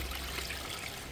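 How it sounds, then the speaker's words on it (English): Wash mitt swished and rinsed in a bucket of water during a rinseless car wash, a steady close trickle and slosh of water, brief and continuous with no talk. "But I'm going to rinse it in the bucket."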